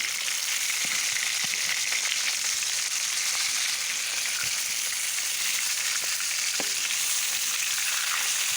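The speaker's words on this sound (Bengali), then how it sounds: "লাল লাল করে আমি মাছগুলো ভেজে নিলাম" Pieces of rohu fish fry in hot oil in a pan, giving a loud, continuous, even sizzle with a few faint knocks, and no talking.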